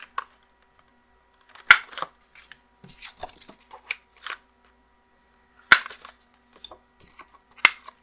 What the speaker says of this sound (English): I'm going to grab a corner punch because I want to punch the corners on the closure piece